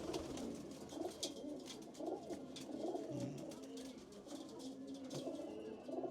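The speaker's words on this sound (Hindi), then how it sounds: "एक मुट्ठी की कबूतरी है।" Soft, throaty pigeon coos repeat in short rolling phrases, several birds close by in a loft in Ghaziabad, India, with faint chirps and light rustling in the background.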